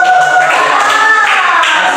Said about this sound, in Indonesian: Kasih tepuk tangan mau dulu dong.